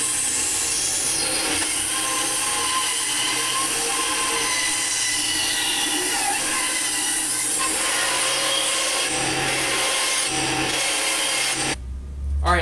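A four-way rasp works a red oak longbow handle in continuous close scraping strokes, a dry rough rasping that runs steadily and then stops near the end.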